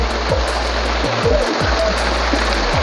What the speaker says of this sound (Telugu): ఒక ట్యాంక్ పెట్టుకొని ఇక్కడ వస్తుంటాయి నీళ్ళు